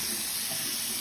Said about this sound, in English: Water in the faucet.